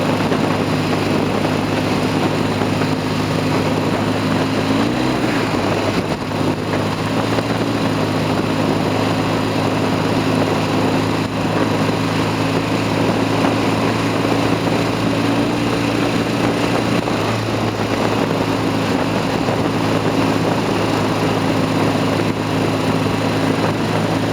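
A BSA A10 Super Rocket motorcycle rides along with a badly slipping clutch, its engine droning steadily and loudly with a slight pitch dip partway through, constant wind rush over the top.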